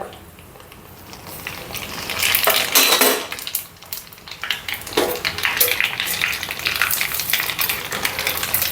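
Fenugreek, urad dal, cumin and mustard seeds fry in hot oil for grated mango pickle, crackling and sizzling steadily while a utensil scrapes and stirs the pan, close and fairly loud.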